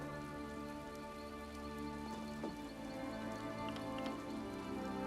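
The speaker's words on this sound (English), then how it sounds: "I could do without this damnable rain. It's been storming since we arrived, and it shows no sign of letting up." A rain storm in the video game Elder Scrolls Online, with steady patter of raindrops on surfaces under a droning musical bed, fairly soft and continuous with a few brief louder drips.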